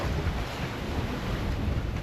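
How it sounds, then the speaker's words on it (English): Big ocean waves, roughly 4 to 5 metres high, surge and wash around a sailing boat on the Atlantic, with loud continuous rushing water and gusty wind buffeting the microphone, steady and close throughout. "We've still got some pretty big waves."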